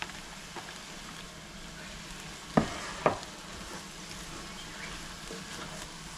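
Cabbage frying and being stirred in a pot for a quick Trinidadian home meal, a low steady sizzle with two sharp utensil knocks close together partway through.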